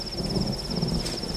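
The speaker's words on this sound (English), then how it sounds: "I staged my big exit into a torrential downpour." Heavy torrential rain during a thunderstorm, a loud steady hiss with low rumbling underneath and a continuous high insect-like trill running through it, no voices.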